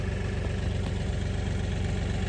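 A tractor engine idles on a farm, a steady low mechanical drone with an even rumble that holds at a constant level throughout, no voices over it.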